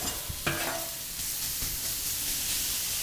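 Chopped onions sautéing in a wide pan for Oklahoma smash burgers, with a steady close sizzle and a couple of scraping stirs from a spatula near the start.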